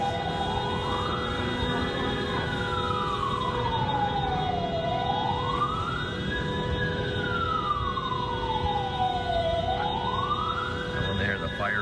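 Sirens from fire engines and police cars in Mexico, one slow wailing siren sweeping up and down several times over a constant rumbling background, moderately distant, with faint voices underneath.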